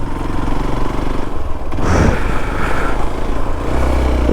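A motorcycle engine runs loud and steady on a Himalayan road in Nepal, with continuous rumble, wind and road clatter, alone without talk.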